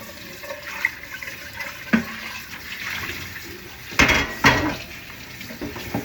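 Boiled chicken pieces being washed in a pot of water: sloshing and splashing with intermittent metallic clanks and scrapes of the pot, a couple of louder bursts in the middle.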